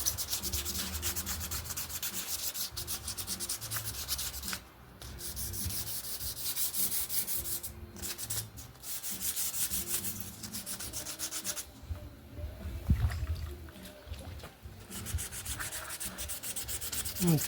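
Wet sanding a 1959 Schwinn Tornado bicycle part by hand with 600-grit sandpaper: continuous, close rasping strokes in a steady back-and-forth rhythm, with brief pauses and no talking.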